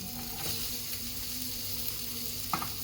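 Mixed vegetables, including chickpeas, carrots, peas, peanuts, field beans and green beans, fry in a pan with a steady, fairly quiet sizzle and a faint clink near the end.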